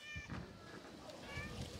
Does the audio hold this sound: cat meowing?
yes